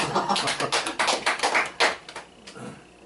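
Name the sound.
audience clapping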